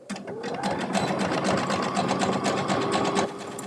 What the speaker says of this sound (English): this might be the one place you do want to backstitch